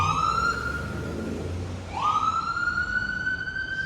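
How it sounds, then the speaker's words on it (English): An ambulance siren wails through a downtown Brampton, Ontario street, its tone sliding up and holding, dipping briefly, then rising again and sustaining, loud against steady traffic rumble. "just an ambulance responding"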